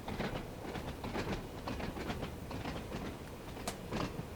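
A train in Train Sim World 2 on the Isle of Wight line from Ryde Pier Head to Shanklin rolls along the rails with a steady rhythmic clickety-clack over a low rumble, moderately quiet with no voices.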